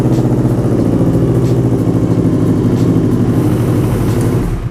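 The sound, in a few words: CFMoto NK400 motorcycle engine starting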